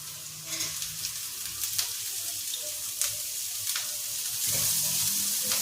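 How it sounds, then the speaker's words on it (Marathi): Moth beans (matki) fry in a hot pan with red chilli powder for Maharashtrian misal, a steady close sizzle with a few brief stirring scrapes and a louder hiss near the end. "एक मिनिटभर मटकीला परतून घेऊ।"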